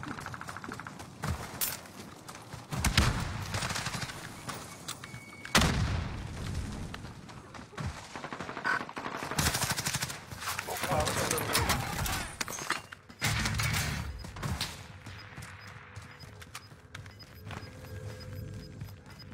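Gunfire and explosions in the Call of Duty video game, with dense bursts of shots and booming impacts rattling on and off over about nineteen seconds, loud and close, with game noise between the volleys.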